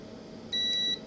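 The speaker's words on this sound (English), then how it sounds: "We get the meter and put it in continuity." A single short, clear electronic beep sounds from a multimeter on continuity mode while wiring on a hamfest microphone cord is tested, over a faint room hum.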